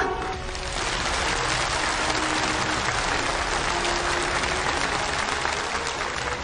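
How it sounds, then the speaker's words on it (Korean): Sustained applause from a large audience at a May Day celebration stage show honoring capital construction workers, dense and even throughout without pause. "우리 뜨거운 축하의 박수를 보내줍시다"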